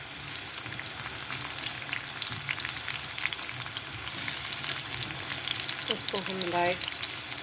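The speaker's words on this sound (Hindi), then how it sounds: "पैन में मैंने 2 टेबल स्पून ऑयल डाला है, इसको गर्म किया है और इसमें मैंने एक बारीक कटी प्याज" Finely chopped onion fries in two tablespoons of hot oil in a pan, a steady close crackling sizzle throughout, with brief stirring and someone speaking over it near the end.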